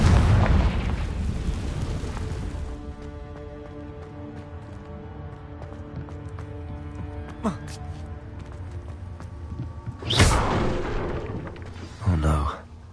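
Confringo spell blasts in the video game Hogwarts Legacy: a big booming explosion at the start, then later bursts against a droning ambient game background.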